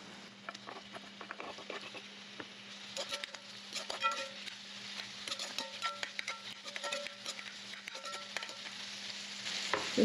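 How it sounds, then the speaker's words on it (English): Onions and seasoning peppers sauté with dried curry leaves in a hot pan, giving a steady close sizzle with crackling pops and occasional scrapes of stirring throughout. "Just want to leave the onions to saute a while."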